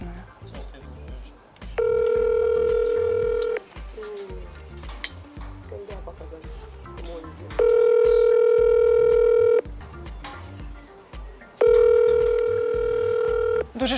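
Telephone ringback tone heard over a call line, three long steady tone bursts spaced a few seconds apart, with low background noise and no voice.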